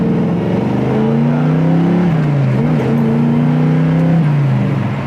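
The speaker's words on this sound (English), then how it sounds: "what a great exhaust sound" Steady, close engine and exhaust note from a 1970 Camaro Z28 under way, a crisp, moderately loud drone that rises slightly and settles without hard revving or talk.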